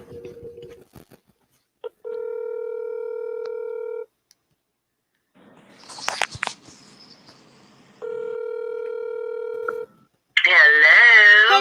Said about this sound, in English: Let me go ahead and give her a call. Put her on speakerphone so she can talk with us.